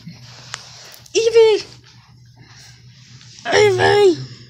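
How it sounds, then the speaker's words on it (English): A dog gives two drawn-out whining, wheezy yelps separated by a pause, close to the microphone in a quiet indoor room. "This is our newest dog, Evie"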